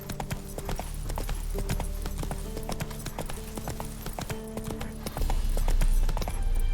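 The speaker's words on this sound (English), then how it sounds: "Me escupe el caballo." A horse in The Witcher 3 trots with steady, rhythmic hoof clip-clops on a hard surface, loud and close, with a louder low rumble toward the end.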